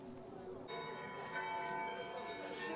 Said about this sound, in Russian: Колокола не унимаются.